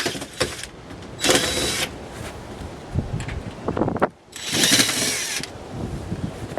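A cordless battery drill backs screws out of the top panel of an Electrolux dryer in two whirring bursts, the second longer, close and loud, with clicks and handling noise between them.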